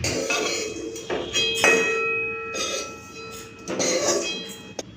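Roasted whole cumin seeds tipped out of a hot pan in a home kitchen, giving bursts of dry rattling and scraping with faint metallic ringing from the pan, close and moderately loud.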